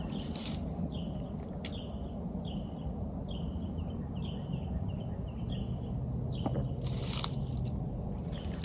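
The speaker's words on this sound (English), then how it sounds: "This bird might be singing out in the morning" A bird sings in the morning outdoors, repeated short chirping phrases at moderate distance over steady low rumbling background noise, with a couple of brief rustling bursts.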